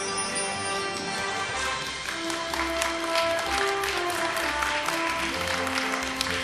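Steady, sustained applause from an audience greeting a baseball player walking in at a defensive-play awards ceremony, a continuous wash of clapping with music tones running underneath.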